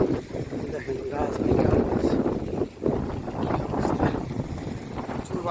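Strong wind buffets the microphone in heavy gusts while someone talks over the roar during hook fishing at a fish farm.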